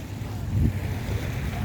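Sea waves rolling at Dolomite Beach at low tide, a steady broad wash of surf with wind buffeting the microphone, swelling slightly near the start before settling into a continuous low roar.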